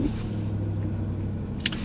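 A 2021 Bentley Flying Spur with a 4-litre, 550-horsepower twin-turbo V8 idles just after start-up. The engine gives a quiet, smooth, steady low hum, with a faint brief click near the end.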